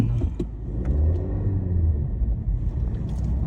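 Steady low car rumble on a road in the United Kingdom, loud and continuous with faint passing noises above it and no talk.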